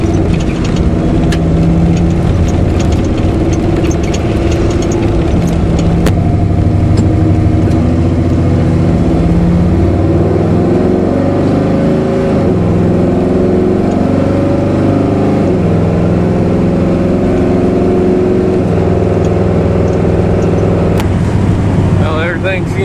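1970 Chevrolet Impala with a 406 small-block V8 and a lockup transmission on a short test drive, its engine a loud, continuous close rumble that shifts in pitch as it pulls, with occasional clicks and a voice talking over it.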